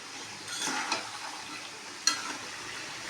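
Meat curry that is nearly done sizzles softly in a pan and is stirred and mixed, with a couple of brief scraping strokes over a faint steady fry.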